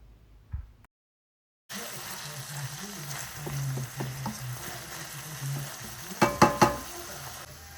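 Minced beef frying in a pan while it is stirred, a near, steady sizzle broken by scraping strokes and a few sharp clatters toward the end, after a short silent gap at the start.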